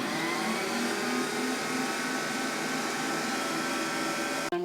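Electric hand mixer beating eggs and vanilla into whoopie pie batter, a steady loud whirring drone that runs continuously before cutting off abruptly near the end.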